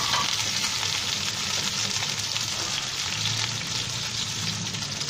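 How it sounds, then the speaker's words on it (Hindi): Oil sizzles and fries steadily in a kadhai while aloo qeema is being made, a constant close hiss with no talking over it. "सबसे पहले हम अपने कढ़ाई में तेल डालेंगे, ऑयल डाल दिया, ऑयल डाल के अच्छी तरह फ्राई करेंगे।"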